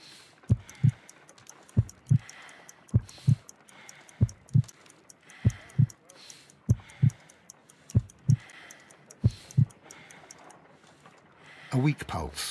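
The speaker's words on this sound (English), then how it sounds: "I need to concentrate and count the heartbeats." Heartbeat in the video game Sherlock Holmes Crimes and Punishments, a slow, steady lub-dub pulse of about eight paired low thumps, close and distinct, with a brief rustle at the end.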